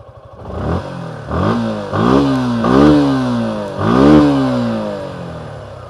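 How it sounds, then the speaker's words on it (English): A Suzuki Gixxer SF BS6 motorcycle with a twin muffler revs up repeatedly, four or five rising throttle blips in a row, loud and close, with a throaty exhaust note. "this twin muffler which used to have that snorkeling sound"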